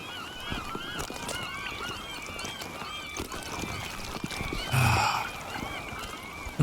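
Birds honk repeatedly in the forest survival game Sons of the Forest, several goose-like calls overlapping over a steady outdoor ambience, with a brief louder rushing noise partway through.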